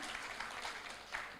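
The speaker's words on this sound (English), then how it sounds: "let's give them a big round of applause" Audience applause at an international research symposium, a faint, steady wash of clapping from a crowd heard at a distance.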